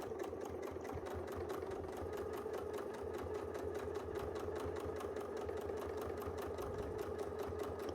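A sewing machine doing free-motion quilting stitching runs at a steady fast pace, its needle hammering in an even rhythmic chatter over a low motor hum, close and continuous without talk.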